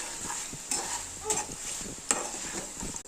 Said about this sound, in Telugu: మూత పెట్టి ఫ్రై చేసుకోవాలి